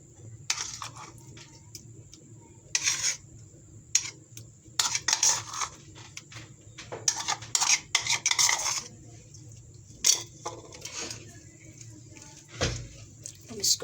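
A spoon scrapes and clinks in a bowl as mayonnaise is added and worked into a sandwich filling, with bursts of rasping strokes spread across the stretch; close, moderately quiet, with a low steady hum behind.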